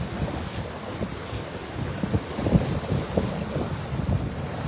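Rough, choppy seawater slaps against a seawall and rebounds on Anna Maria Island after Hurricane Milton, a steady churning wash with irregular splashes, mixed with heavy wind buffeting the microphone and no talking.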